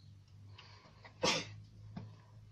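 A single sharp sneeze bursts out alone in a quiet room, loud and close, followed by faint breathing and a small throat sound.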